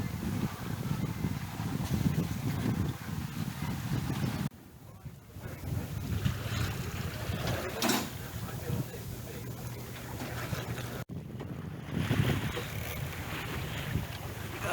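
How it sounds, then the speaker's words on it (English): A sailboat running on a broad reach, with steady wind rushing over the microphone and water washing along the hull throughout, broken by a few brief gusty dropouts. "we've got the sails trimmed about right for that broad reach there that we're on"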